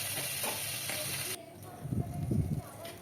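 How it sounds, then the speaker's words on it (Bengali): Fish swim bladder (tel potka) dropped into hot oil left from frying eggplant, with a brief sizzle and crackle that swells after a broad hiss cuts off partway through, fairly close. "এরপর সেই তেলের মধ্যে দিয়ে দিলাম মাছের তেল পটকা।"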